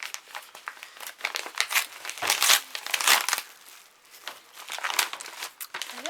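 Paper crinkles and tears as a mailed letter or parcel is opened by hand, a close, busy run of crackling rustles with brief pauses, no voice heard.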